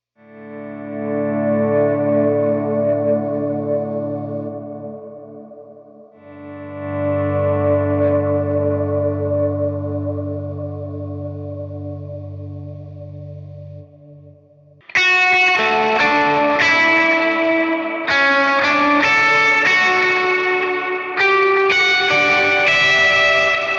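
An electric guitar played through an HX Stomp pedalboard preset for big lead parts and swells: long, slow-swelling sustained chords drenched in echo and chorus, then a bright, busy run of higher lead notes, played alone.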